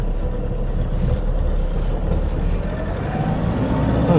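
A used Toyota Vigo pickup truck on a test drive, its engine accelerating in a steady low rumble from inside the cab, mixed with road and wind noise and no talk.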